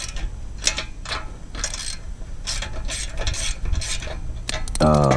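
Close ratchet wrench clicks in quick bursts of pawl ticking, a 13mm ratchet backing out exhaust bolts on a Honda Grom motorcycle, with a short pause between pulls and a brief tonal noise at the end.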